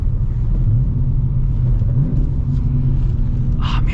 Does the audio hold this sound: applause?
no